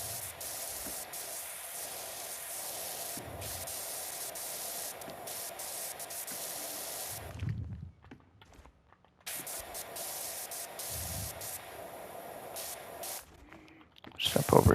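Pressure washer spray in the PowerWash Simulator 2 video game, a steady broadband hiss that runs almost continuously, drops out briefly partway through, then resumes, with faint talk under it.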